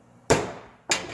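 Two sharp metallic hammer taps on a transfer punch marking a hole center, separated by about half a second, each ringing briefly and decaying; close and alone.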